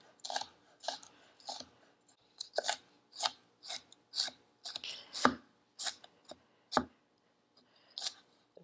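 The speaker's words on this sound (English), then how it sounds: "We're going to get all this minced up nice and fine." A knife finely minces fresh garlic and parsley for chimichurri on a cutting board, giving about fifteen close, crisp chops in an uneven rhythm with short pauses between bursts.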